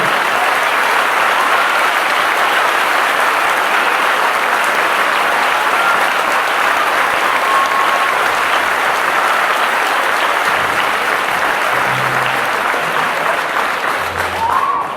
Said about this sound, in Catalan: Anem a aplaudir.